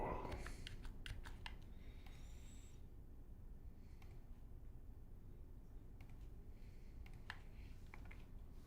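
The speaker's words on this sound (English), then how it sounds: "It's usually not right when I start typing." Someone types on a computer keyboard, producing quiet clusters of clicky keystrokes that come in brief bursts with pauses, over a soft room hum.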